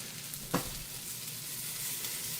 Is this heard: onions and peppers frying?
yes